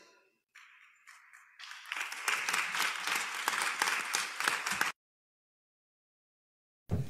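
Applause breaks out in a legislative assembly session, starting with a few scattered claps that quickly swell into dense, loud clapping for a few seconds, then cutting off abruptly into silence.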